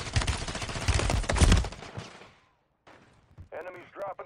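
Video game combat with a shotgun and other gunfire, a dense burst of loud shots for about two seconds that fades out, followed after a short gap by someone speaking.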